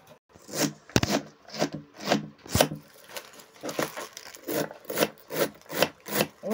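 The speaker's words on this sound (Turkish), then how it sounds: "Evet, pancarlarımı doğruyorum." Beetroot being sliced thinly with a knife on a wooden board, giving a steady run of crisp, close chopping strokes roughly twice a second with no talk.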